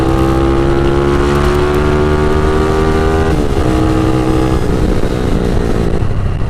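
Loud, noisy motorcycle engine running steadily while riding at speed, its droning harmonic tone shifting slightly in pitch midway, with heavy wind rush over a helmet throughout.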